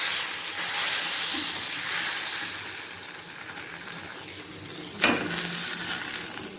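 Pomfret fish fry in oil in a pan with a soft, steady hiss of sizzling, a faint sharp clink near the end, and no talking.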